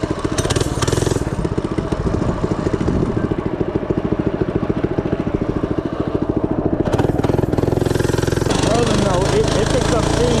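FRP GMB 100 retro mini bike's small engine picking up speed, a loud close buzzing putter with rapid regular firing pulses that rise slightly in pitch, steady throughout with no voice over it.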